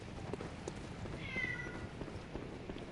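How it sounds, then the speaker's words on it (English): A cat meows once, a short tonal call rising over steady low game ambience and background noise in Bloodborne, a dark gothic action game with werewolves. "Got a little kitty right there in the back."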